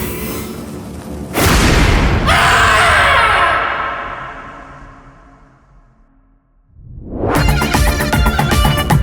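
Firecrackers burst in a loud boom that fades slowly over several seconds. A second sharp, powerful blast follows, and no one speaks.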